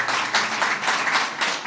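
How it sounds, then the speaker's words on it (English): An audience at the grand opening of an affordable housing development gives sustained applause, a steady wash of many hands clapping at once with small swells in intensity. "just get a round of applause"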